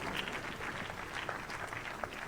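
Audience applause for the Cameroon Indomitable Lions' gold medal, a brisk continuous patter of many hands clapping at even volume for a couple of seconds.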